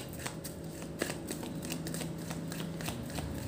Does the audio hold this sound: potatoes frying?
no